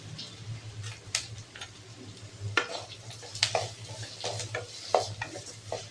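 Curry leaves sautéing with a little salt in a pan for a potato curry, with a soft steady sizzle under repeated scraping stirs from a spatula, close and fairly quiet.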